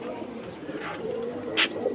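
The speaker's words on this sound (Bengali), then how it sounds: "জোড়া নিউ এটেল কবুতর" A pair of new Atel pigeons coo softly at close range over a steady low background hum, with a brief brighter call near the end.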